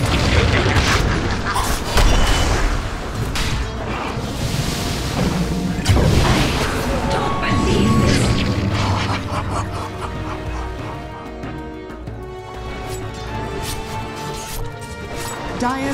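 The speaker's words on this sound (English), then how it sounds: "Dire's top tower is under attack." Booming crashes and impacts from a Dota 2 tower fight, heavy repeated thuds and smashes layered with game effects and music, with a voice speaking over the din.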